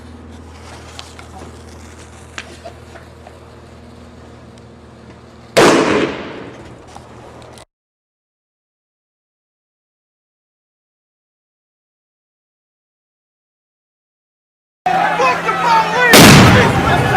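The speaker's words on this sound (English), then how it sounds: "They were actually throwing police-grade stun grenades." Police-grade stun grenades go off at a protest, one sharp close blast fading into a long rumble, then silence before another loud, dense burst of bangs amid crowd noise.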